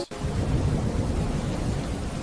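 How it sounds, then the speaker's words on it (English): Steady rain pours down in a dense, even wash with a low rumble beneath, like a distant thunderstorm, constant and close with no voices. "Cold rain blew softly across the floorboards."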